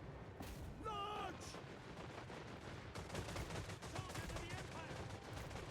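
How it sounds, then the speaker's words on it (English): Skaven gunfire in the video game Total War Warhammer III rattles through a dense battle mix, with rapid overlapping cracks and booms under constant clamor, and a voice speaks over parts of it. "I thought I heard a Skaven going bang, bang, bang, bang, bang"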